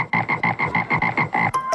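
A frog croaks in a steady rhythmic series of about nine loud, close calls, then a brief sharper sound closes the sequence.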